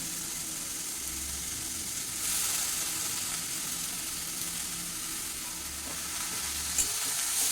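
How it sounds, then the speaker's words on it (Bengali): Squeezed water lily stems being stirred into lightly fried coconut in a hot pan, a soft steady sizzle with faint scraping stir sounds, fairly quiet, no voices. "এখন এটাকে ভালো করে নেড়ে চেড়ে নারকেলের সাথে মিশিয়ে দিচ্ছি"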